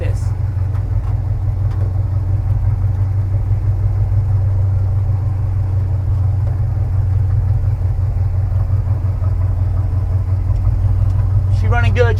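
A 1965 Ford F-250 pickup engine idles slightly high with a steady low rumble throughout, close by and unbroken, with a brief voice near the end.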